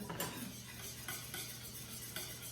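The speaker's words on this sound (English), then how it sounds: "I'm using this whisk, so I have a mini whisk" A small mini whisk beats ingredients for a molasses pie in a bowl, giving quiet, light scraping and clinking strokes at an irregular rhythm, close by and soft.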